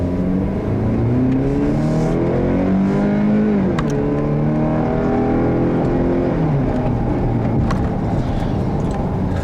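A 2015 GMC Canyon pickup's small four-cylinder engine drones steadily from inside the cab while driving on the road, its pitch rising through the gears with brief drops at shifts under constant road noise.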